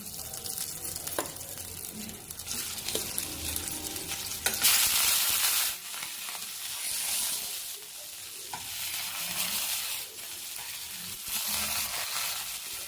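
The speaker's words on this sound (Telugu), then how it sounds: "రెండు స్పూన్లు ఆయిల్ పోసామండి ఇందులో ఈ ఉడికించుకున్న కాకరకాయ ఒక్కొక్కటి తీసుకునేసి ఇలా వేస్తున్నామండి" Boiled stuffed bitter gourds fry in about two spoons of oil, giving a continuous close sizzle with soft crackles and a sharper burst of spitting partway through.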